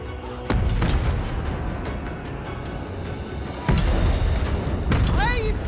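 Crane gunners fire in a Total War: Warhammer III battle, with a few sharp, booming shots cracking out over a dense, continuous roar of combat.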